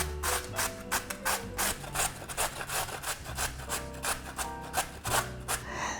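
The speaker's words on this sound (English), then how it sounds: "I'm adding 200 grams of carrots, fresh carrots, as fresh as possible, and using the larger side of the grater." Fresh carrots grated against the large side of a box grater, giving a steady run of rapid, rhythmic rasping strokes, close and clear, with no talking.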